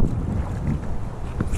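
Strong, cold wind buffets the microphone beside the Truckee River in California, a continuous rough low roar with gusty swells and no talking.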